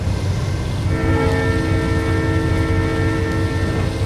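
A train whistle sounds as a sustained, steady tone rising over the loud rumble of a passing train, continuing to the end.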